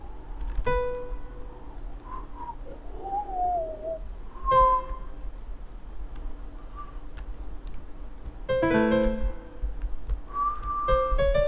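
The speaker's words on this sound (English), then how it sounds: "I'm gonna be whistling a lot because that's how I keep pitch" A person whistles short sustained tones to keep pitch for singing, a few separate clear whistled notes with gaps between them, close and fairly quiet over faint room noise.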